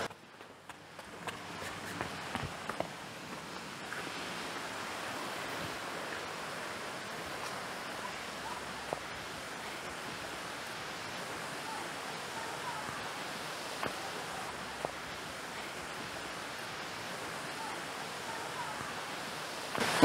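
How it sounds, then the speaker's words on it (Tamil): A small stream flows across the top of Amicalola Falls, making a continuous broadband rush of running water that holds steady throughout, with occasional faint knocks and no clear talking. "அவ்வளோ பெரிய ஃபால்ஸுக்கு இந்த குட்டி நீரோடையிலிருந்து தான் தண்ணி வருது."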